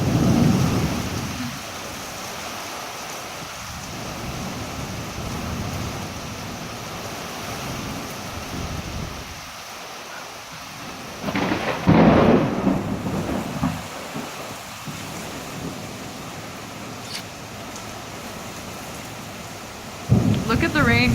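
A supercell thunderstorm in Rosenberg brings steady heavy rain hissing on surfaces, with a loud close thunder crack midway and another sharp burst at the end.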